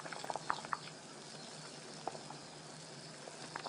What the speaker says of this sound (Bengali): এখানে আমি তেলটা গরম করে নিয়েছি। এখন আমি একটা একটা করে আমি দিয়ে দেব তেলের মধ্যে।